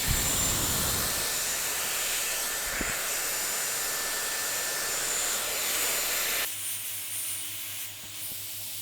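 A hair dryer blasts cold air onto hair in a loud, steady rushing roar, then drops abruptly to a quieter, lower hum near the end.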